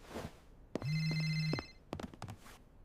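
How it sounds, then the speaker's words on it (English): A telephone bell rings once in a sustained electronic trill, close and clear, followed by a few soft knocks and handling sounds. "It is ringing."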